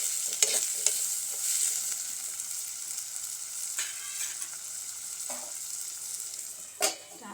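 Salt being mixed into eggplant and potato pieces in a pan: a soft hiss of cooking broken by scraping and occasional sharp clicks of a utensil against the pan.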